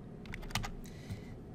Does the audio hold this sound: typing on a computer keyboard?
yes